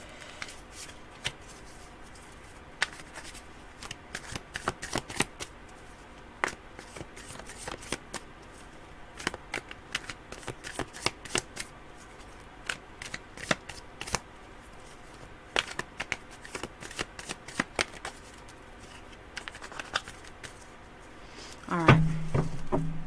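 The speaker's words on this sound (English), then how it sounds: "I want to make sure these are really shuffled." A deck of cards being shuffled by hand during a psychic reading, with repeated crisp riffles and soft slaps close by, ending in a louder burst of handling noise.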